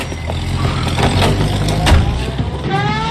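A car pulls out of a driveway in the video game LA Noire, its engine drone steady and fairly loud, with a brief squeal and background city traffic.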